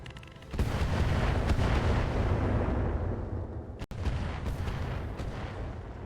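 Inferno incendiary missiles launch in the mech game RogueTech as a dense, continuous roaring barrage that is loud and close, with one brief dropout near the end and no talk.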